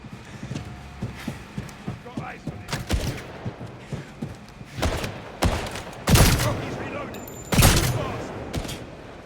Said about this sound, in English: Who's shooting me anyway?